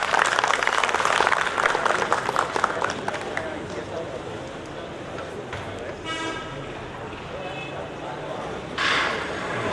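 Audience clapping at a college annual dinner honouring position-holder students and staff, with a loud, dense burst at the start that thins out while a voice talks over the room.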